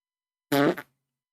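A single loud fart, sharp and close, with a short buzzing burst followed by a smaller tail, set against silence.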